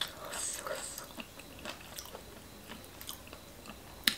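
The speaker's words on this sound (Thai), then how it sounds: "ฟังเพิ่นกินจิบไปเลยจ้ะพี่น้อง" Someone eats spicy Thai khanom chin papaya salad made with pla ra and fresh shrimp, with soft, close chewing and wet biting sounds repeating at a quiet, steady pace and one sharper crunch near the end.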